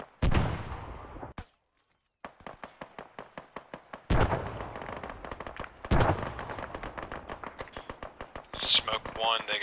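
Gunfire in the military shooter ARMA 3 during a team firefight around Hesco barriers: rapid bursts of sharp rifle shots in quick rhythmic strings, some close and loud, with talk over the shooting.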